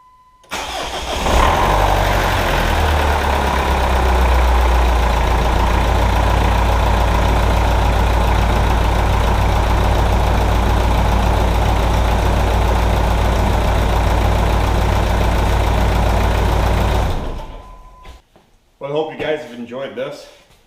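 A Jeep Liberty CRD with a 2.8 liter diesel engine cranks, fires up and idles steadily with a loud, close clatter for about fifteen seconds before shutting off, followed by brief talk.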